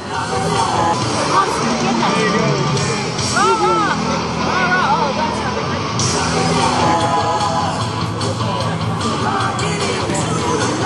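A small crowd at an outdoor July 4 Tea Party rally in Salisbury, Maryland murmurs and chatters continuously, with scattered louder voices and occasional shouts rising out of the steady babble.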